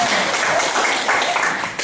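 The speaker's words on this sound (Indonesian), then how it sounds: "Tepuk tangan buat kita" A short burst of applause from a gathered crowd, dense and continuous for just under two seconds.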